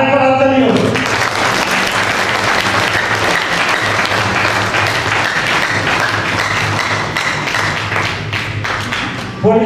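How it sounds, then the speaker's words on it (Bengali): An audience claps loudly at an RCM celebration event in a guest house in Mecheda, a thick, sustained burst of applause that stays strong throughout and fades slightly near the end, with a voice audible at the start. "আর একবার হাততালি হোক।"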